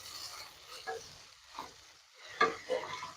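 Cauliflower rezala cooking in a pan, with a few distinct stirring scrapes and soft sizzling bursts over a quiet frying background, no talk.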